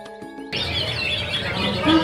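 Green leafbird (cucak hijau) singing: after a short musical intro, a continuous run of bright, rapid chirps and warbling whistles fills the rest of the clip, close and fairly loud, with no talking.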